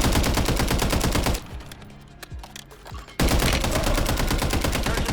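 Automatic gunfire rattles in the video game Warzone: loud rapid bursts, then a short lull with scattered shots, before the fire resumes at full intensity.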